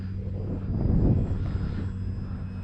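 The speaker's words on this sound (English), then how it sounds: "I tell you, I'm really enjoying this plane here. And just flies so nice and scale." A Tundra RC model airplane flies in a light breeze, its motor giving a steady, low droning hum that swells slightly midway and then holds at a moderate distance with no voices.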